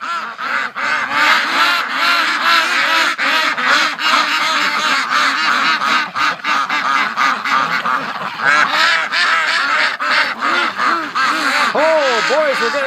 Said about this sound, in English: so excited ducks